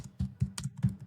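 A brief burst of computer keyboard typing, a handful of soft, quick keystrokes in an uneven rhythm, faint and close.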